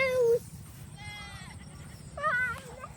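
Goats being herded bleat loudly and nearby, with one long cry at the start, a wavering call in the middle and another burst near the end.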